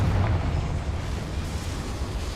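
A Confringo explosive spell blast in Hogwarts Legacy, fired inside a small mine: a heavy, rumbling boom that is loudest at the start and then carries on as a steady, dense roar throughout.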